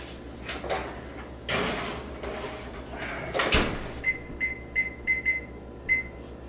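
A pan of chocolate chip cookies goes into the oven: a door thuds and clatters shut, then a series of short electronic beeps follows as the timer is set, close by with no talking.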